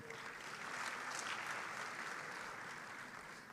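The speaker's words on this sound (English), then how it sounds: "let's give them another round of applause." An audience at a conference closing ceremony gives a steady round of applause, soft and distant, with no voices over it.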